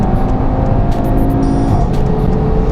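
An Audi TT RS accelerates hard on an open road, its engine a loud, steady, close roar with a rising whine and no speech over it.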